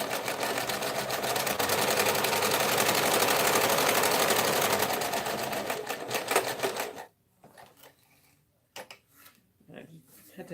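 A sewing machine runs a half-inch seam on a tote bag in one long, loud continuous stretch, then stops, leaving quieter handling noises and faint talk.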